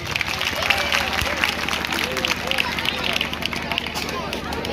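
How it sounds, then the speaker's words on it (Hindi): Children in an audience at a Hindi poetry recital clap loudly and steadily for several seconds, a dense wash of hands with crowd murmur and voices mixed in. "एक बार इनके बाद जोरदार बच्चों ताली बजा दो"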